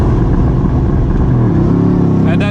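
A Mercedes-AMG GT C V8 accelerating hard from a launch-control start, a loud, close engine roar rising steadily in pitch throughout.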